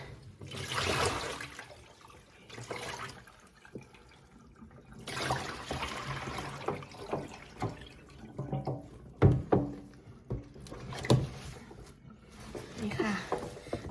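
Vegetables being rinsed for Thai fermented greens (som phak), with water splashing, sloshing and dripping in irregular bursts near the listener, and someone talking intermittently over it.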